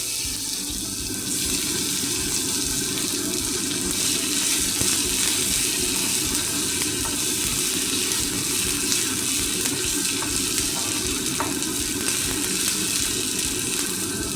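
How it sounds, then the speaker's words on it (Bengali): A kitchen chimney exhaust hood runs with a steady, loud fan whoosh that fills the whole stretch, over a pan where black cumin and tomato are frying for a fish dish, with faint sizzling beneath and no talking. "চিমনিটা চালালাম, একটু আওয়াজ হবে চিমনি"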